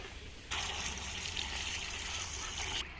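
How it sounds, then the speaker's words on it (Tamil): Water poured onto a country chicken pepper fry cooking village style, a steady splashing rush that starts abruptly and runs loud for over two seconds before stopping. "நம்மளோட பெப்பர் சிக்கன் மேலே வந்துட்டு இந்த தண்ணி ஊற்றிடலாம்"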